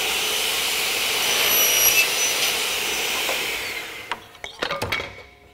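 A saw run under a TigerStop automatic stop-and-fence system makes a 7-inch cut, giving a steady loud broadband whine that fades out, followed by a few sharp clicks and knocks near the end.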